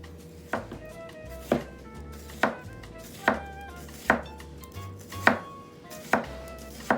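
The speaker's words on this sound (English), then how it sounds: "First, we need to cut up the onion like this." An onion chopped with a knife on a cutting board, about one firm, evenly spaced stroke per second, close and clear against a quiet background with no talk.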